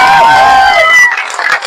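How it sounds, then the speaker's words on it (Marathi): A large crowd at a Dhangar community protest gathering in Mumbai applauds and cheers in a dense, loud wash of sound, with voices shouting over it, before it thins out into scattered claps and calls. "मराठा समाजाच्या कार्यकर्त्यासाठी टाळ्या वाजवा बरं एकदा."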